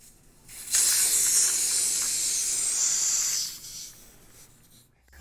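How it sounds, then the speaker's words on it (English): Gas hisses out of a Liberty rebreather's release valve as it is slowly opened, a close, steady rush of air that rises suddenly, holds for several seconds, then fades. "I'm opening the release valve nice and slow"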